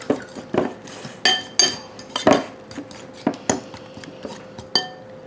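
Chaffle batter being mixed in a bowl, with a utensil clinking and scraping against the dish in a steady, irregular rhythm of close, fairly loud knocks and taps, no talking.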